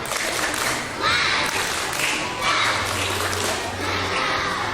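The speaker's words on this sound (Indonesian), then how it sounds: "Tepuk mantap, tepuk mantap." A group of children clapping along in a rhythmic classroom clap during a learning-through-play session, bursts of applause and lively young voices rising and falling together, fairly close and loud.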